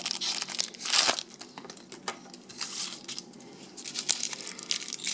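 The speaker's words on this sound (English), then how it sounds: "You unwrap the foil" Foil wrapping crinkles and tears as it is peeled off an adrenaline ampoule, with close, irregular bursts of rustling and crackling that come and go over a few seconds.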